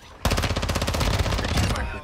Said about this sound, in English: Let's just bots shooting each other.